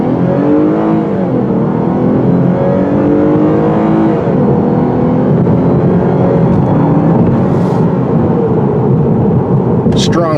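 A 2019 Lexus RC350 V6 in sport mode accelerates hard. The engine note rises loud and steady through the whole stretch with a deep, continuous roar, and a voice speaks over it.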